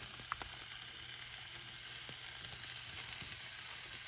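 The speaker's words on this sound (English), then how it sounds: "I'm gonna go ahead and throw in a small amount of onions that I've diced up, and we're gonna let those saute." Diced onions sautéing in heated oil in a home kitchen, a soft, continuous sizzle and hiss with a few faint utensil clicks, steady and fairly quiet throughout.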